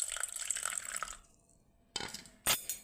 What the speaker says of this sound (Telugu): ఇప్పుడు ఈ సాల్ట్లో హాట్ వాటర్ పోసుకుందాము.